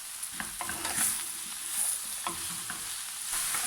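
Mushrooms frying in a pan for gratin tacos are stirred with a utensil, making a steady close sizzle broken by several scraping stirs over a bright hiss, with no voices.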